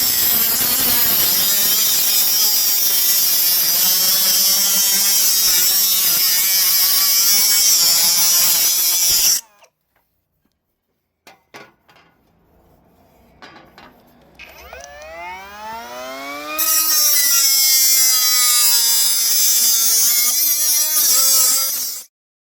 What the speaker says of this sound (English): I have cut the bulkhead out